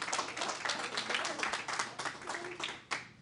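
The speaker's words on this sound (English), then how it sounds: "How about one more round of applause for everybody?" Applause at a FoodWorks culinary class graduation ceremony in Baltimore, a brief, fairly close round of clapping from a modest crowd that swells and dips in uneven waves.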